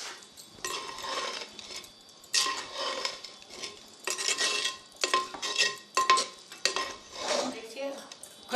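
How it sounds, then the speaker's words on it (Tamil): A spoon stirs amaranth greens rice mixed with ground masala and peanuts in a metal vessel, giving repeated scraping clinks and soft rustling pushes in irregular bursts, close and fairly quiet. "இப்போ நல்லா நம்ம பிரட்டி கொடுக்குறோம்"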